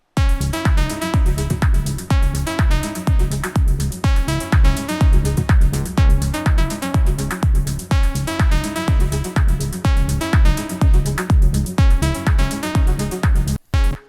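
Melodic techno mix with limiter and light multiband compression, a dense steady four-on-the-floor kick under layered synths, loud and continuous until a brief dropout near the end.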